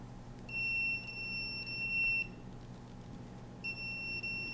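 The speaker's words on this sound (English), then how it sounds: "So this is my microwave detector. And here is the alarm going off" A microwave detector alarm beeps in a fast, steady run of high electronic tones that lasts nearly two seconds, then starts again after a pause, with a faint hum underneath.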